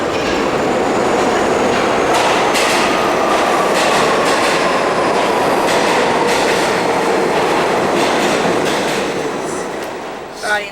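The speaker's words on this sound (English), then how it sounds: "I think our subway is on its way." A subway train rumbles into the station, its steady roar and clattering wheels filling the space loudly and continuously before easing off toward the end.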